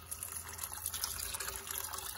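Water added to a pot of macaroni while cooking, heard as a soft, faint continuous pour and trickle, steady for a couple of seconds in a quiet kitchen.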